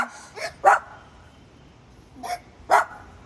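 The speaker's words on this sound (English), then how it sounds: "Oh, two little puppies." Small dogs give four short, high yips in two quick pairs, fairly close, with quiet gaps between them.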